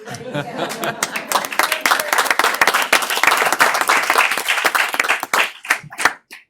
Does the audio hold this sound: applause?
yes